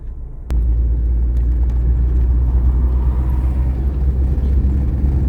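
A 1993/94 Ford Escort GL 1.8 cruises on the Castelo Branco highway, heard from inside as a steady, loud low engine and road rumble after a single sharp click near the start.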